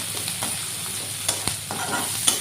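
Garlic sizzling in hot oil for a fish curry, with a spoon stirring and scraping through it, a steady close hiss broken by sharp clacks of the utensil against the pan, no talking.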